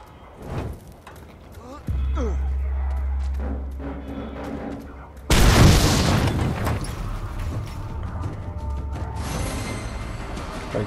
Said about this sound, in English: I can make you an explosion.